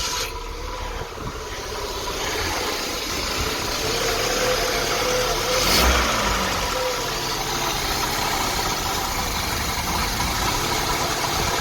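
An Austin Ambassador Vanden Plas engine idles steadily while its carburettors are balanced, a constant, even rumble heard from close by with a slight swell midway, and no voices.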